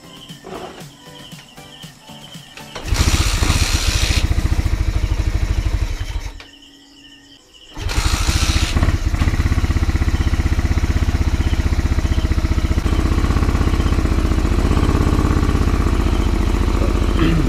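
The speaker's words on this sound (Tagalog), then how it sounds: "buka naman natin siyang i-start ngayon guys" A 2018 Suzuki Raider 150 fuel-injected motorcycle with an idle fault fires up and runs with a loud, rapid rattling roar, then cuts out into near-silence before restarting and settling into a rough, steady run to the end.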